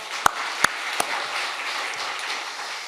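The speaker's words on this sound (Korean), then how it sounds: "박수하겠습니다." A church congregation applauds after cheering, starting with three sharp separate claps, then a soft, scattered patter of clapping that continues faintly in the room.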